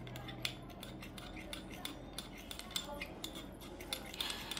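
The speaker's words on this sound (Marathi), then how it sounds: "हळद आणि ॲलोवेरा जेल हे चांगलं मिक्स करायचं आहे." A spoon stirs turmeric and aloe vera gel in a bowl, a quiet, steady run of small scraping clicks and clinks against the bowl close by.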